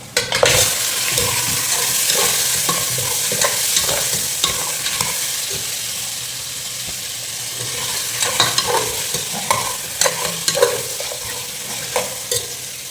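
Mutton stirred and frying in a pan, a steady broad sizzle with repeated scraping and clinking strokes of the spoon throughout, close and fairly loud.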